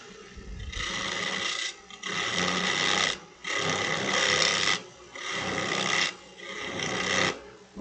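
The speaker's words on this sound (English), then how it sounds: "So I'm going to grab my 1/2-inch spindle gouge and just do the cuts nice and easy towards the headstock." A 1/2-inch spindle gouge takes easy cuts on wood spinning on a lathe, working toward the headstock; a steady, loud rasping hum comes in repeated passes of about a second each, with short pauses between them.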